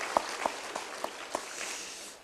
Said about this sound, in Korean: 우리 하나님께 감사와 영광의 박수 한번 보내드릴까요?